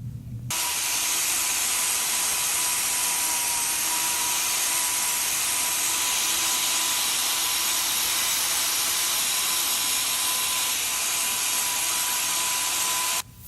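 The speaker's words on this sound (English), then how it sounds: "I'm just slowly removing very thin layer of hoof horn to expose what's left" A steady, loud, even whir of a power tool runs without pause as thin layers of horn are trimmed from a cow's hoof, starting abruptly and cutting off near the end.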